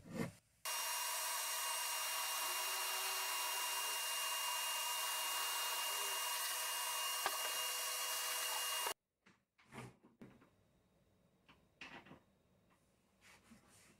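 Power drill boring a hole through a board for hanging a shelf: a loud, steady high whine runs unbroken for about eight seconds, then stops abruptly, followed by scattered handling knocks and rustles.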